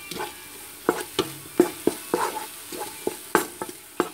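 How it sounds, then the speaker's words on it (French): A fish couscous base fries in olive oil in a pan on the stove, with a soft steady sizzle broken by sharp, irregular stirring scrapes and taps close by. "On va le faire revenir sur le feu pendant 5 minutes."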